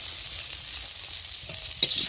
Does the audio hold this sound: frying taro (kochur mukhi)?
yes